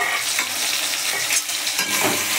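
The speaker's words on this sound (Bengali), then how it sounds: "কড়াইতে তেল দিয়েছি, তেলটা গরম হয়ে গেছে, পেঁয়াজগুলো দিয়ে দিলাম।" Onions sizzle loudly in hot oil in a kadai, a continuous close-up crackle with stirring scrapes running through it and no talking.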